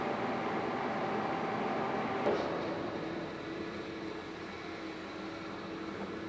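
A metal lathe turns a Bison six-jaw Set-Tru chuck slowly at about 177 RPM, giving a steady, continuous mechanical whir and hum at an even level with no talking.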